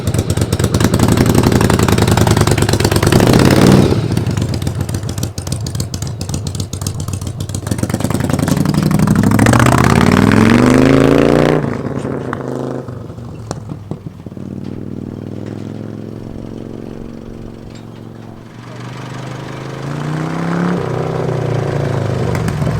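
A borrowed motorcycle engine roars and revs in surges during a ride, rising and falling in pitch, easing to a lower idle-like rumble midway before building again.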